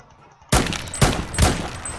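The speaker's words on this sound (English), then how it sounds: "This gun is semi-automatic" Three sharp, separate shots from a semi-automatic gun in Roblox Phantom Forces, each a loud close crack spaced about half a second apart, following a brief quiet lead-in.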